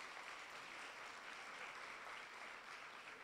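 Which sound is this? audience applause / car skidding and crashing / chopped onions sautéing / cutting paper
audience applause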